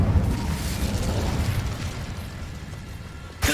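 An Incendio fire spell cast in Hogwarts Legacy: a loud, sustained roaring burst of fire with a rumbling low end, fading slightly before a sharp crackle at the end.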